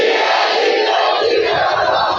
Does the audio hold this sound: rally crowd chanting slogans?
yes